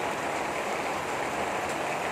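Heavy rain pours down in a dense, steady hiss of falling water, continuous and fairly close, with no voices.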